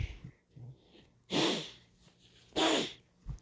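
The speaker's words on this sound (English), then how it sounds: "I had to blow my nose" Two loud, wet nose blows, each about a second long, the pair separated by a short pause and followed by a faint sniff near the end; no talking.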